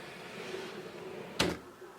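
A drawer full of eyeshadow palettes slides open with one brief scraping clunk near the end, close by over a quiet room hum.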